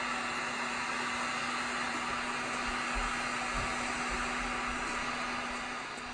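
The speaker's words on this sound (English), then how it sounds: "So he still has the heat gun going and he's slowly turning it." A heat gun blows steadily while softening volleyball leather, a constant loud airy hiss with a fixed motor hum and no pauses.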